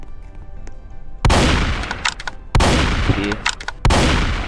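A pump shotgun in the blocky online shooter Strucid fires three loud, close blasts at roughly even intervals, each followed by a quick ringing tail, with a brief word of speech before the first shot.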